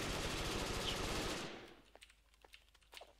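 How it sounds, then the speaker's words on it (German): A wall fires at the player in a video game with a loud, dense burst of rapid gunfire that cuts off abruptly, leaving a few scattered sharp shots. "Die Wand kann schießen."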